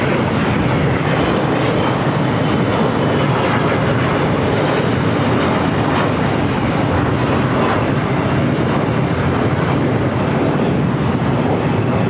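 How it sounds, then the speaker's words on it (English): A Lufthansa Boeing 747-8 Intercontinental taxis across the south runways at LAX, its engines giving a loud, steady broadband roar throughout with wind noise. "this 11-year-old 747-8 Intercontinental will be crossing over the 2 south runways"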